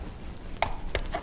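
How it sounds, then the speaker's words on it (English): A fork pierces holes in a spaghetti squash, giving three short, sharp pokes close by with a faint background hum. "You take the spaghetti squash and you take a fork and you just put some holes all over the spaghetti squash"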